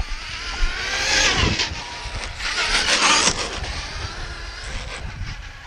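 A Traxxas Maxx V2 RC truck on 4S power with a Hobbywing system drives hard outdoors, its electric motor whining and surging up and down under wind noise as it speeds past.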